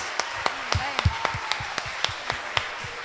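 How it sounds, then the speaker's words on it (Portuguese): Congregation at a Baptist church service in Cabo Frio clapping in a steady rhythmic beat, sharp claps at a brisk pace over worship singing and voices. "aplaude ao Senhor"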